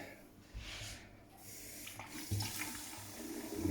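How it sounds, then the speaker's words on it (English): Hot water poured into a vessel while making a dark fruit cider drink, a soft continuous splashing and trickling stream, fairly quiet and close, swelling toward the end. "Have a little bit of hot water in there."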